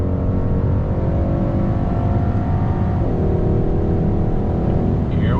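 A 2021 Hyundai Sonata N Line sedan accelerating hard on throttle, its engine droning loud and steady from inside the car, with rising pitch and a brief dip partway through as a gear shift comes.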